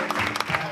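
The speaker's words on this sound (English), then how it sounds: "We respond appropriately by applauding" A brief burst of theater audience applause, dense and fairly loud, lasting under a second.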